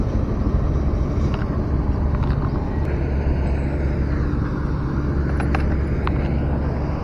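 Trucks and heavy construction equipment roll past on a toll road under construction, making a continuous low, broad rumble of traffic at moderate distance, with no voices.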